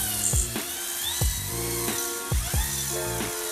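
A drill spins a flex hone inside an oiled two-stroke engine cylinder, giving a close, steady motor whine broken by repeated short scraping bursts as the hone works the bore.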